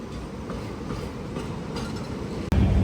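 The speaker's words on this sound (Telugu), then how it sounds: "ఆపోజిట్ ట్రాక్లో గూడ్స్ అయితే వెళ్ళిపోతుంది" A goods train passes on the adjacent track, its rolling wheels making a continuous rumbling clatter with faint rhythmic clicks, heard from inside a carriage and ending with a sudden louder burst of noise.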